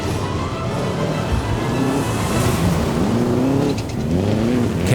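Subaru rally cars run a stage, with a loud engine roaring close by, revving and shifting through rising and falling pitch, then a passing swell with gravel and tire noise, and no talk.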